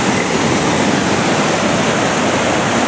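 A waterfall roars beside forest and cliffs, white water crashing down in one continuous, loud, dense wash of noise that stays steady throughout with no voices.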